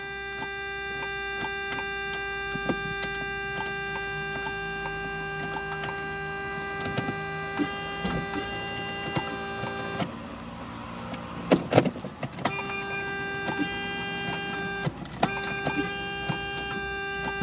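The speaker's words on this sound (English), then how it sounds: "And then, you turn the key to start." Ignition key turned in a USA-legal 2005 smart Fortwo Passion (Mk1): a steady electronic warning tone rings, then brief mechanical cranking and clunks break in before the tone returns.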